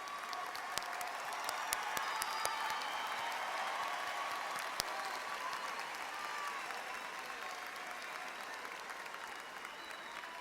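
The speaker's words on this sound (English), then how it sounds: "Students, please rise for recognition and applause." A large crowd at a high school graduation ceremony applauds graduates in a sustained wash of clapping, heard from a distance with a few sharper individual claps standing out.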